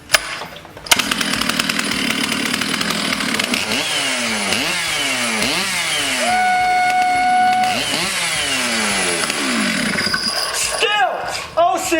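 A Stihl MS660 (066) chainsaw, freshly rebuilt and warmed up, starts and runs loud and close, revving up and down repeatedly between a steady idle, with someone talking over it.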